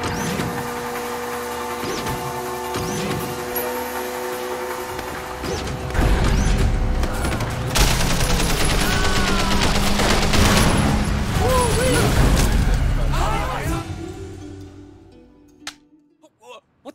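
Remotely armed guns mounted on a car fire in the Sleeping Dogs video game, a long rattling barrage over engine and mechanical noise that swells, then fades out toward the end with a few scattered clicks.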